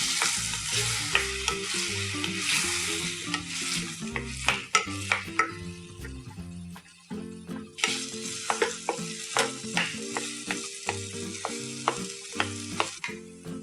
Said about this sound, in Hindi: बस थोड़ा सा चलाएंगे, हमारी आलू की फिलिंग रेडी हो जाएगी